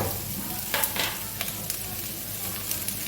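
Drumstick stalks fry in a pan with potato and asafoetida, giving a steady, close sizzle with occasional sharper crackles and the scrape of stirring.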